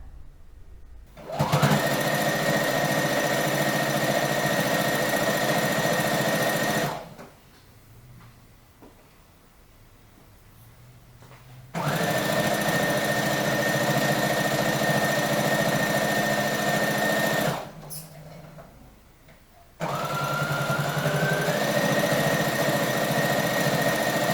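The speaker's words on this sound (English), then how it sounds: "I'm going to do an overlay single line stitch right across it so it won't come apart" A sewing machine runs an overlay single line stitch across joined fabric in three long, steady whirring bursts of about five seconds each, separated by short quiet gaps, close and loud.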